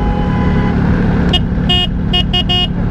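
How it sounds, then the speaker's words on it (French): A string of short, bright tractor horn toots, about five quick blasts, sounds over a steady low engine rumble. "Ah, le klaxon de tracteur."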